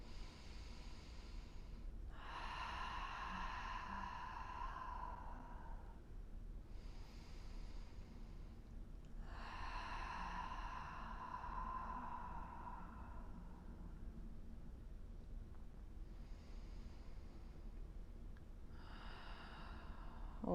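Slow, steady breaths taken while holding a supine yoga stretch with one knee hugged into the chest, each long exhale rising and fading in a calm rhythm over a quiet background.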